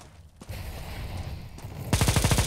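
Rapid burst of gunfire in the game CS:GO, loud and close, with a dense run of evenly spaced shots at the end after scattered quieter game noise.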